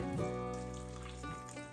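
Boiled water from a kettle pours in a steady continuous stream into a container in a home kitchen, close and even, no talking.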